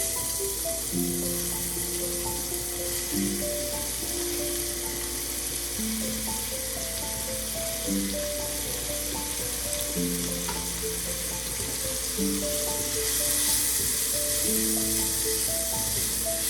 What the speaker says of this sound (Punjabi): ਹੁਣ ਅਸੀਂ ਵਿੱਚ ਪਿਆਜ਼ ਪਾ ਦਵਾਂਗੇ